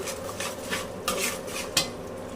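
A spice paste being sautéed is stirred in a pan, with a spoon clattering and scraping against the metal in a few close, brisk strokes. Only a slight sizzle sits underneath.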